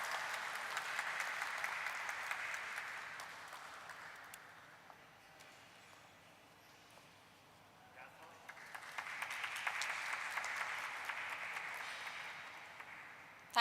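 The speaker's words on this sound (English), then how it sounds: "Let's welcome him with a huge round of applause." An audience at a stock exchange listing ceremony claps for a guest, a steady wash of applause that dips briefly mid-clip and then swells again, moderately distant.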